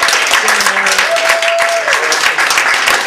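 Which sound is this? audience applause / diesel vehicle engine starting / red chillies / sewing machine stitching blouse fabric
audience applause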